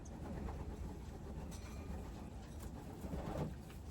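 Racing pigeons cooing softly inside a loft, low, repeated murmuring coos heard nearby over a steady background rumble, with a slightly louder burst near the end.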